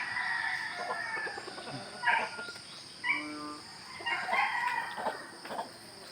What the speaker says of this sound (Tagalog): ay mga manok nila